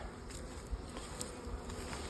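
A honeybee colony fills one and a half to nearly two brood chambers, giving a steady, close, dense buzzing hum that holds even throughout with no voices.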